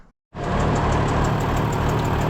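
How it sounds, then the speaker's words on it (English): A repaired tractor engine starts up after a brief silence and settles into a loud, steady, close-up running drone with an even rhythmic thrum. "it's all back together, tractor's running"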